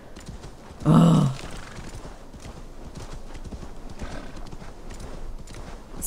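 In Assassin's Creed Valhalla a horse gives a loud, close neigh, followed by steady hoofbeats under soft game ambience, and someone briefly exclaims.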